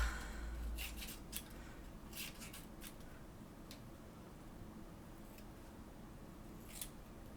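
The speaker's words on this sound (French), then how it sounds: "Ça va être un peu galère à couper dans le papier crépon" Scissors snip through crepe paper in a handful of quick, close, crisp cuts spread irregularly across a quiet indoor room, with no talking.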